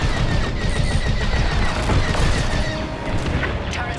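Enemy blaster fire in Star Wars Squadrons pours in as a dense, continuous barrage of crackling shots and booms, loud and close, layered over the roar of a starfighter battle.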